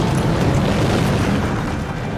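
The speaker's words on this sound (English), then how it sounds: "That shifts the rock sideways, so each explosion has space to blast into." Blasting charges detonate in a soft-coal mine, fired one row at a time, giving a sustained, loud, dense rumble of booms with no talk.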